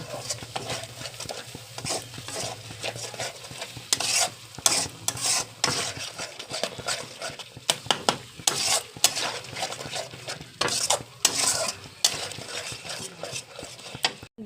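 Spice masala seasoned with salt and turmeric fries and is stirred in a pan for egg curry, giving a continuous sizzle broken by irregular scraping and clinking of a utensil against the pan, close and fairly loud.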